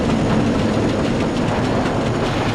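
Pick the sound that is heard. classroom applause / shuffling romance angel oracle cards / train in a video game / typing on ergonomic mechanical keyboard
train in a video game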